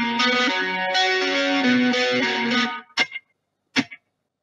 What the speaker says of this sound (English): So you can hear the type of delay.